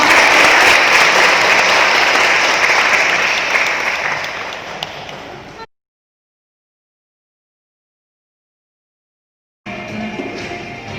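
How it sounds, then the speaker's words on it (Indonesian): Applause from an audience at an Indonesian talk, loud and steady for about five seconds before fading, then a gap of silence and a second burst of clapping. "tepuk tangan untuk Anda semua"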